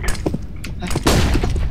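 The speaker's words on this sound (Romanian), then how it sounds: "Dau flash și intri. Flashbang!" A flashbang grenade detonates in the video game CS:GO, a sharp broadband burst about one second in that spreads into a dense, loud wash, with game noise and scattered talk around it.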